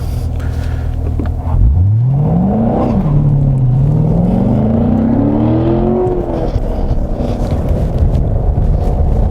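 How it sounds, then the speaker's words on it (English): A 2017 Chevrolet Corvette Grand Sport V8 engine roars on a racetrack, revving up sharply then rising and falling through the gears as the car accelerates, loud and close with wind buffeting throughout. "All right, Corvette Grand Sport."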